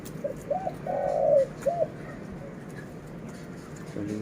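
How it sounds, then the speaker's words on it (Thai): A dove coos several times in soft, low hooting phrases, close by, over a faint background hum. "นกริวเสียงน้อยครับ"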